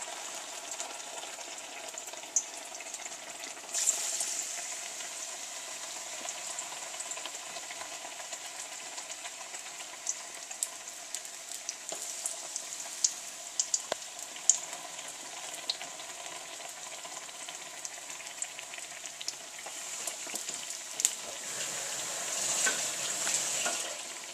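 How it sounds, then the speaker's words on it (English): Oreos deep fry in oil, sizzling and crackling steadily for a long stretch, a soft bubbling hiss dotted with small pops, with no talking. "you're deep frying them. And just drop them right into the oil."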